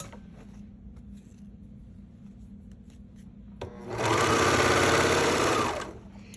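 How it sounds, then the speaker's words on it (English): A sewing machine stitches a cami tank bodice. After a few seconds of low hum, a loud, close, rapid stitching run lasts about two seconds and then stops. "Just stitch down to the circle, or right when the bodice hits the front."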